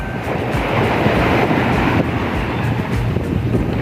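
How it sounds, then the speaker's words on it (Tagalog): Strong ocean waves at a beach surge and crash in a continuous loud roar, with wind buffeting the microphone throughout. "Grabe ang lakas ng alon!"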